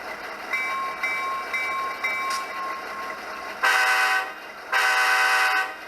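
Soundtraxx 21-pin sound decoder in a Rapido U25B model diesel locomotive gives a string of short, evenly spaced bell-like dings, then two loud, sustained horn blasts with a short gap between them. The sound is thin and small-speaker in character, with no talking.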